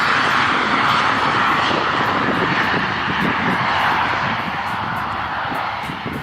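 A small single-pilot passenger jet, about 12 meters long with a 13-meter wingspan, gives off a loud, steady engine roar with a broad whoosh that holds level and fades slightly toward the end.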